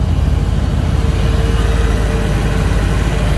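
A 1956 Ford F-100 truck engine runs steadily with a deep, low rumble and an exhaust leak, loud and continuous throughout with no talking.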